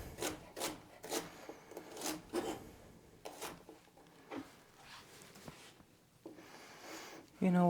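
A knife chops celery coarsely on a wooden cutting board in a steady series of close, crisp thunks, then slows to scattered cuts and a louder handling bump at the end.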